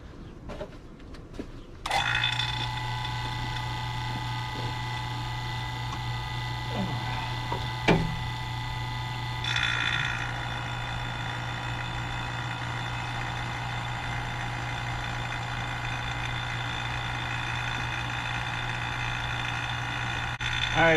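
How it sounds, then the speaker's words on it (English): A brand-new vacuum pump, drawing vacuum on a 1998 Jeep Wrangler TJ air-conditioning system, starts abruptly and runs with a steady mechanical hum and whine, close and continuous, with a few clunks and shifts in tone along the way. "Vacuum pump."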